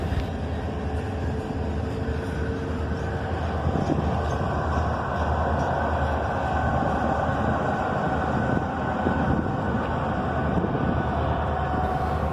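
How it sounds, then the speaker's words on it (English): Continuous rumbling and rattling of a passing CSX GP38 diesel locomotive shoving a caboose, steady and fairly loud throughout with no pauses. "And there goes that GP38."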